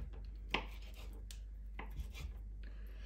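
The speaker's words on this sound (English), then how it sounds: "grab yourself a knife and then chop up your sausages into bite-sized chunks" A knife cuts sausages into bite-sized chunks on a board, giving a few soft, separate chopping taps close by and quiet, with no talking.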